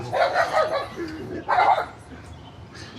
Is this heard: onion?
no